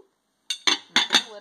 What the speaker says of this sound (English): I'm gonna put the lid on.